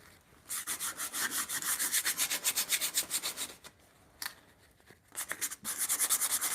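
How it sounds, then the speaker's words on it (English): Coarse 40-grit sandpaper rubs back and forth on a wooden bunk bed brace in rapid rhythmic strokes, close and crisp, with two brief pauses between bursts of scratchy sanding. "crudest grit sandpaper. This is like 40. So I'm trying to get all of these sharp edges off."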